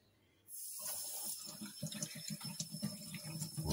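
Tap water runs steadily onto a Vaillant Ecotec boiler part being rinsed clean, a close, continuous splashing gush that starts abruptly after a brief silence.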